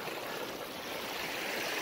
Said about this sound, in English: The water's coming pretty good now.